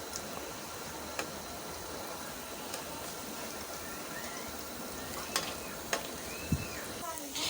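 Piyaju lentil fritters fry in hot oil with a soft, steady sizzle, broken by a few sharp clicks and taps from the pan.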